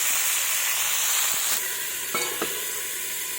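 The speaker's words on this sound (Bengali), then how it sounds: "এইভাবে হালকা মিডিয়াম আঁচ রেখে ঢাকা দিয়ে এটাকে ভেজে নেব।" Rohu fish frying in a covered pan over medium heat, giving a steady close sizzle throughout, with a couple of brief clinks or lid taps partway through and no talking.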